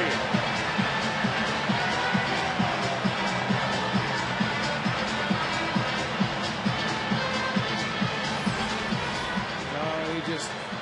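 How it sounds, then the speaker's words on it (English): Crowd at a Dodgers at Arizona Diamondbacks baseball game cheering steadily after a line-drive base hit, a broad sustained roar with a commentator talking over it throughout. "The crowd, they love it."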